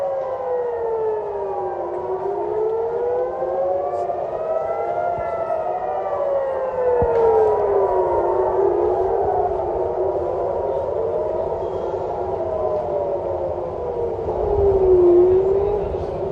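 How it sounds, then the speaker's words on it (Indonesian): Air raid sirens in Israel during a missile attack, several overlapping wailing tones rising and falling slowly, heard from a distance over a steady background rumble. "sirene meraung saat rudal melintas di Israel dan tepi barat"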